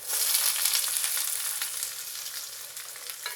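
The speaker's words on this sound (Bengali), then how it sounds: "এর মধ্যে আমি কুচিয়ে রাখা পেঁয়াজটা দিয়ে দেব।" Chopped onion hits hot oil in a kadai already tempered with dried red chilli and cumin, bursting into a bright, loud sizzle that settles into a steady crackle with faint stirring.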